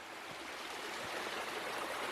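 Water flows steadily down a creek in a thawing slide zone, a continuous broadband rush that stays even and fairly close throughout, with no voices.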